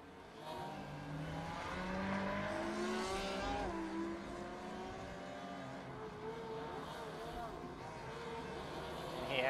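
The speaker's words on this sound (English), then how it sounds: "The celebratory burnouts." Race cars in the iRacing sim doing celebratory burnouts after a GTE round at Spa-Francorchamps, with traction control off, their engines revving and tyres squealing in a steady, dense roar under constant background chatter.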